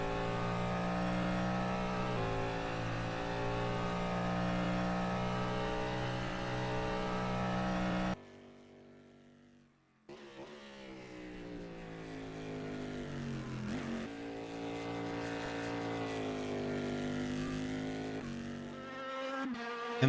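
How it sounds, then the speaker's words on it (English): A Dallara P217-based endurance race car in rFactor 2 screams through a lap, its engine a loud, sustained high-pitched whine that rises and falls with gear changes, dropping briefly near the middle before building again. "And this car is based on the Dallara P217"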